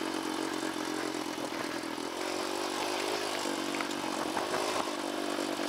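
A HadesOmega dirt bike engine drones steadily and loudly while riding downhill through rocky Red Rock Canyon terrain, with continuous rough mechanical hum and rattling, no talking.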